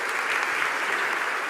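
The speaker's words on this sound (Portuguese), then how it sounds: "Uma salva de palmas." Dense, steady applause from a church congregation during a service, a continuous wash of many clapping hands at moderate volume.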